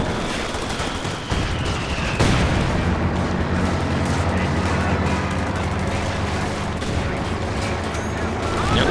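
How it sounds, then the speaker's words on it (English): Machine gun fire in the Company of Heroes 2 strategy game, a dense continuous rattle of bursts mixed with battle noise and booms, loud and sustained after a brief quieter opening. "Look at these guys getting absolutely shredded by the machine gun, Vet 2, Grenadiers, and the Panzer."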